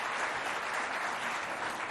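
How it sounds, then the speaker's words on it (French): An audience at a school event in Moundou gives loud applause for the provincial education delegate, a thick, continuous roar of clapping from a large crowd. "J'aimerais qu'on applaudisse bien fort M. Ndolobre Nadion, délégué à l'éducation provinciale."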